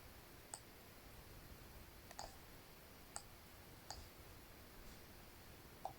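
A computer mouse clicks faintly and sparsely, about five or six light, crisp taps spread across several seconds, with one quick double click, over a quiet room hiss during graphic design work on a trophy illustration.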